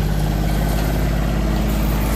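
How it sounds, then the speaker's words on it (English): A tractor engine runs steadily at a pick-your-own farm, a loud, constant low rumble close by with no pauses or changes in pitch. "There's a tractor here."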